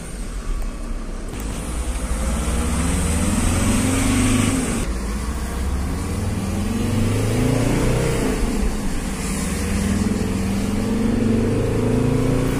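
A 2000 Volkswagen Transporter T4 van with a 2.5 TDI diesel engine drives on a test run with a traction problem, a steady loud engine drone rising and falling in pitch through gear changes, with no talk.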